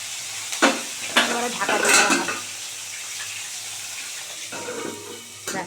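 Oil spatters and sizzles as bhetki fish bones fry in a pan, with short bursts of crackling and stirring clatter over a steady low hiss, close and moderately loud.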